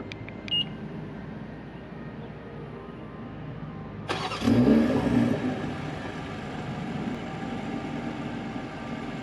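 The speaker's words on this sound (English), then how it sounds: "Pressing the BMW button 3 times activates the remote start." A 2020 BMW M340i xDrive gives a few faint beeps, then its engine cranks and fires on remote start with a sharp rise, settling into a steady, close idle.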